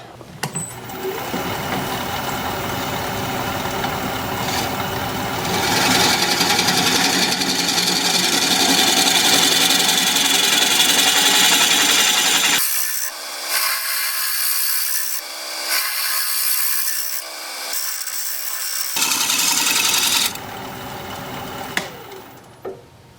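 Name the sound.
woodturning gouge cutting exotic Kamani wood on a lathe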